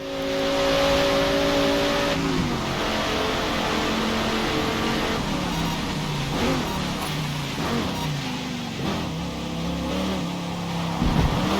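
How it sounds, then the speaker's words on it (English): A racing car engine in Forza Motorsport (2023), revving and dropping pitch as it downshifts before a tight turn, loud and continuous with a faint alert cue blended into the engine drone. "before a tight turn, you may hear this downshift alert."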